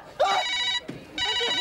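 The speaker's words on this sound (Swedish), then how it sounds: "Vad är det som ringer? Det är telefonen." A telephone rings in two bursts of bright electronic trilling, loud and close, separated by a short gap, with faint background movement between rings.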